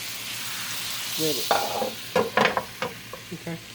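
Butter melts and sizzles in a hot pan under a steady frying hiss, while a utensil scrapes and stirs in several short, close strokes.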